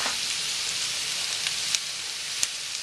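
Spinach or similar greens cook down in a pan for salmon Benedict, giving a soft, steady sizzle with a few faint pops and crackles.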